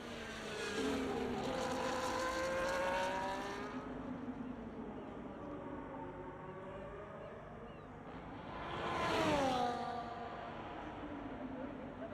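Formula-style race car on an out lap at the Singapore circuit in a racing game, engine revving up and down through gear changes, with a loud swell near the end as it passes close, moderately distant overall.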